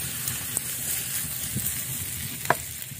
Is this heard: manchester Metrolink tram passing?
no